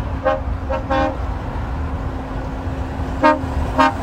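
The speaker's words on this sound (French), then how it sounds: "Pour leur faire des coups de klaxon" Several short car horn toots ring out, three quick honks early on and two more later, over a low steady rumble of traffic or engine noise.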